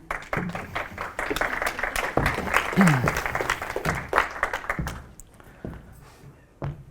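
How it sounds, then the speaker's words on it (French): Applause from a conference audience in Annecy greeting the founder and CEO of a Bitcoin mining company, dense clapping with a few voices mixed in, fading out toward the end. "Merci de l'applaudir"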